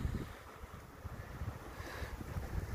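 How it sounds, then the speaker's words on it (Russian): Strong outdoor wind buffets the microphone with a steady low roar and uneven gusty thumps throughout, with no one talking. "Ветер бушует, конечно,"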